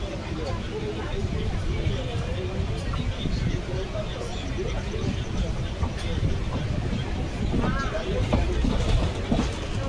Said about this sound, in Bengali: এই যে আমাদের ট্রেন বেরিয়ে এলো কলকাতা স্টেশন থেকে